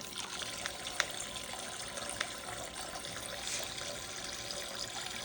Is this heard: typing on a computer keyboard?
no